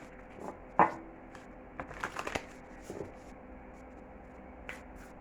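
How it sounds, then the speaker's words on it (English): A few scattered card shuffles and soft taps, quiet and close, with one sharper flick near the start and gaps of near silence between. "Sorry, I didn't shuffle the cards correctly."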